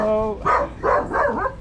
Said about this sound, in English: Getting barked at by dogs